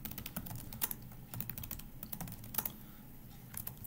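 Typing on a computer keyboard to set a password while configuring a server, with steady, close clicking keystrokes in irregular bursts and no speech.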